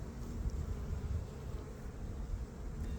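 Honey bees hum steadily around a hive during spring feeding of light colonies with honey, a dense low buzz that stays even and close throughout, with some wind noise and no voices.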